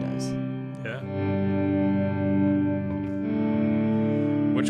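Electric guitar played through an HX Stomp amp simulator with overdrive, compression, delay and reverb gives sustained, effects-heavy chords that ring steadily throughout, with a brief pick attack near the start.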